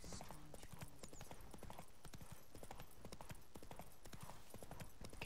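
Horse hooves clip-clop in a steady, quick trotting rhythm in the video game The Witcher 3: Wild Hunt, continuous and fairly close, with a faint background murmur.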